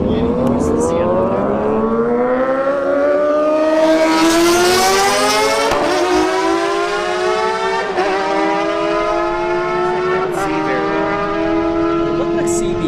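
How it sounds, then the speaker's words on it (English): Kawasaki ZX-10R motorcycle at a drag strip roaring loudly through its gears, the engine pitch climbing steadily across several shifts with brief dips, continuous and close, with a commentator talking over it. "we got a ZX-10R in the right lane"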